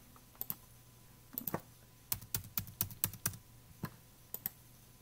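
Quick bursts of keystrokes on a computer keyboard while logging in, sharp clicks in uneven clusters with short pauses, close and clear, with no talking.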